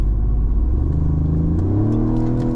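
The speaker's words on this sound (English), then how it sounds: "the base engine is a 255 horsepower turbo 4-cylinder" Mercedes CLE with a 255-horsepower turbocharged four-cylinder accelerating, a loud steady engine drone rising in pitch as revs climb, heard up close without any talk.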